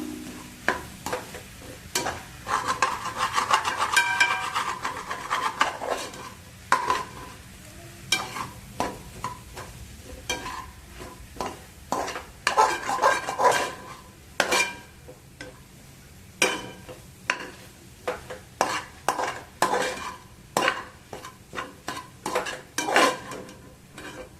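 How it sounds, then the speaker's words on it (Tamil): Mixed vegetables with cumin being stirred in a pan for vegetable fried rice, with a low sizzle under frequent scraping and clinking of a utensil against the pan in irregular bursts throughout. "எல்லா வெஜிடபிள்ஸும் கலந்துடலாம்."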